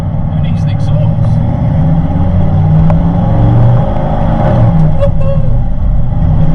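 A rebuilt Audi R8 engine runs with no exhaust fitted, giving a loud, raw, continuous roar and rumble as it accelerates, heard close up with excited talk over it.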